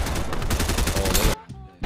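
Rapid automatic gunfire in Fortnite Chapter 2 Remix rattles out in a fast, loud, close burst, then cuts off abruptly, with a brief pause before another shot.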